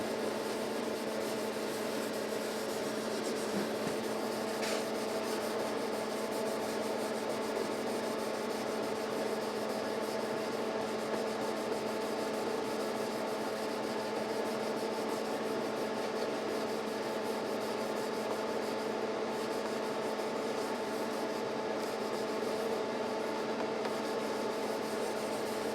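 Steady, continuous rubbing of polish over the frets of a 2010 Gibson ES-335 guitar, a soft close-up friction hiss that runs on without break under a faint background hum.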